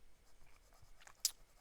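A wet-nibbed Visconti Homo Sapiens fountain pen writing on an A5 paper page: faint, soft scratching strokes in short bursts, ending in one brief, sharper scratch.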